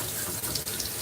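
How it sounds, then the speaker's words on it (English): A faucet runs steadily into a sink while a doll's body is washed, a loud close hiss of flowing water with slight splashes and no talk. "And then I'll wash her body off"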